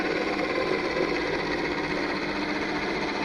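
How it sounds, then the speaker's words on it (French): A drill bores into a metal structure with a steady, dense whirring grind, held close and unbroken for a few seconds, with no voices. "On va percer."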